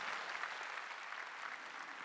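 A church congregation at a Korean Sunday worship service applauds to God, a soft, dense, even wash of clapping heard from a distance.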